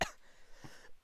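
Two short, sharp coughs bracket a brief quiet gap, close and deliberate, like someone forcing a cough rather than a natural one.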